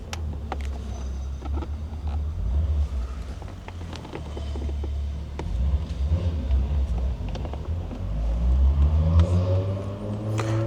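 A Mazda RX-7 passing by, a low engine rumble building in loudness with a rising tone toward the end as it nears, amid scattered clicks and handling noise.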